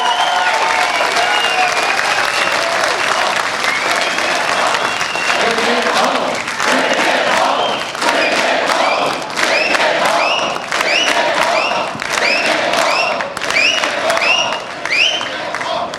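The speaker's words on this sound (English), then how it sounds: "Ladies and gentlemen, a round of applause for Adrian Woolley leading the charge in the entire picture." A large crowd at a Conservative Party of Canada rally claps and cheers loudly and without a break for about sixteen seconds, with whistles and shouts rising through the steady wash of applause and an amplified voice underneath.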